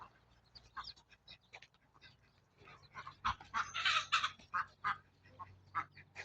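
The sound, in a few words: chickens clucking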